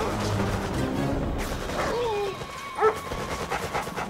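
Attack dogs in the video game Red Alert 3 give a few short barks and yips amid game noise, with a crash and some clatter in the middle of the mix.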